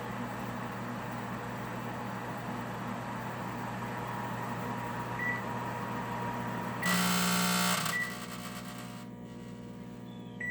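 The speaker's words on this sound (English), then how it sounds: "now the microwave is heating. So it's cooking right now." A microwave oven heating with its fan running, giving a steady low hum and airy whir, interrupted partway by a loud buzzing burst lasting about a second before the hum settles again.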